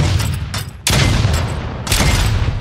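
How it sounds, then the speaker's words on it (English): A grenade goes off in the video game Project Stray, loud broadband blasts with two sudden onsets and sustained rumbling roar, close and dominant with no talking. "I'm just gonna put a fucking grenade up there."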